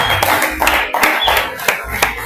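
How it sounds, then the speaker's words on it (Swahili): Congregation at a holy communion service clapping for Jesus, close loud claps in a rough rhythm of several sharp strikes over a couple of seconds. "Pigie Bwana Yesu makofi kama ndio makofi"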